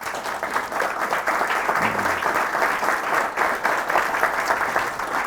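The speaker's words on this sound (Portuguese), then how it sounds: "Você pode dar um aplauso ao Senhor?" A church congregation applauds steadily for several seconds in a dense, sustained round of clapping, with no speech over it.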